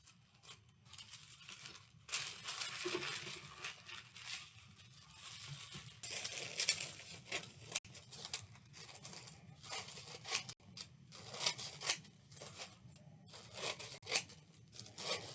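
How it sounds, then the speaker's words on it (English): Scissors snipping through coloured craft paper in blues, purples and pinks to cut squares, with soft irregular crisp cuts and crinkling paper, quiet and close. "We're going to start by cutting squares out of our blues,"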